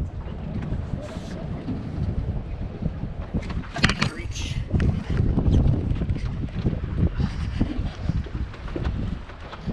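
A 2020 Bayliner Element boat drifts with the wind near a fuel dock, with wind buffeting the microphone and low water and hull rumble, plus occasional muffled voices.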